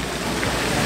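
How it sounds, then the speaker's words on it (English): Heavy rain falling in Central Park, a steady, dense broadband hiss of downpour that stays loud and unbroken throughout, with no voices. "And it's raining. Not just a little drizzle."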